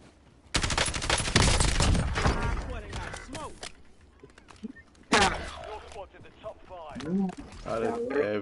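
Gunfire from Warzone in Verdansk: sharp bursts of rapid shots crack out in clusters, with one loud blast midway. Excited talk runs between and over the bursts.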